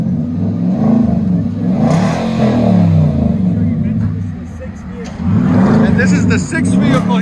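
A 2022 Nissan Titan 5.6L V8 with aftermarket exhaust revving up repeatedly, a deep, loud rumble rising and falling in several close bursts, with someone talking over it.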